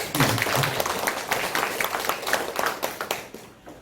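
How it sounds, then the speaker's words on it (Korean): A church congregation at a Sunday worship service in Gwangju claps together, a moderately loud, uneven patter of many hands that thins out toward the end. "다시 한번 박수 한번 주십시오."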